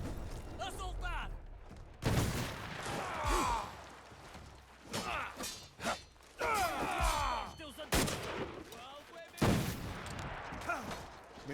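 Gunfire from many guns in Assassin's Creed Shadows comes in sharp, close bursts of shots and impacts, scattered between shouting voices and battle noise.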